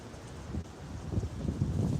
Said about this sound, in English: It's a raging storm.